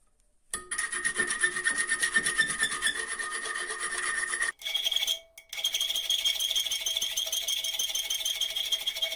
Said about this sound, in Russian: И сейчас тоже буду их выпиливать.